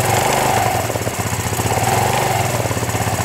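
An MBK moped's small two-stroke engine running steadily right after being started, a loud, buzzing, continuous drone with a slight rhythmic pulsing throughout, close up and alone with no talk.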